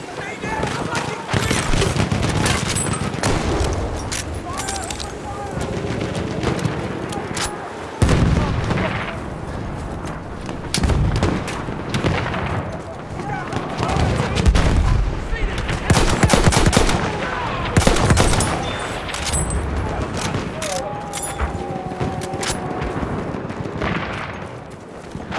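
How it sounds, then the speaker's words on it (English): Machine-gun fire rattles through a Battlefield 1 Conquest match at Cape Helles, with sustained bursts of gunfire, heavy booms and explosions layered loud and dense, and in-game voices shouting over the battle. "There's a machine gun!"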